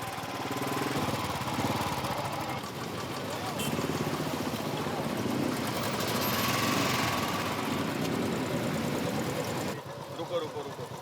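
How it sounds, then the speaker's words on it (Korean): Mid-to-large motorcycles ridden by women in a long-distance race in India, a continuous loud engine drone with a rough knocking texture, steady throughout under talking. "이 여성들은 이제는 남성들과 똑같이 중대형 오토바이를 타고 장거리 레이스를 띱니다."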